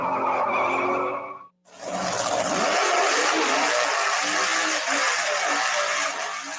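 A drag racing car's tire squeal, a loud sustained screech that follows a brief high whine and a short gap, then roars on steadily and close without any voices.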